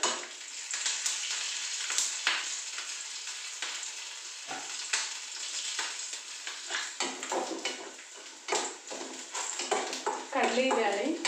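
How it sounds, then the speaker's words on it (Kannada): Peanuts fry in oil with a bright, continuous sizzle, punctuated by scraping stirs and metallic clinks of a utensil against the pan, while a voice speaks intermittently. "ಶೇಂಗಾ ಎಣ್ಣೆಯೊಳಗೆ ಫ್ರೈ ಆಗ್ಬೇಕು."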